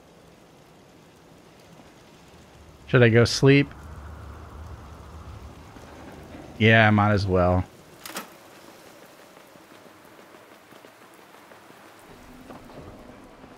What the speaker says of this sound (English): See how it's raining outside?